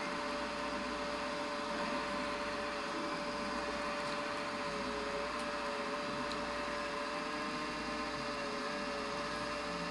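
A Puma engine runs with a steady, unbroken buzzing drone, much like a grass mower, holding an even level for about ten seconds with no voices.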